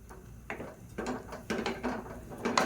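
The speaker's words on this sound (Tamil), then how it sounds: "குக்கரை மூடி வச்சிடலாம்." A pressure cooker lid is pushed shut over a pot of kuzhambu thickened with poppy seeds, giving a series of close metallic clicks and scrapes spaced about half a second apart, with no voices.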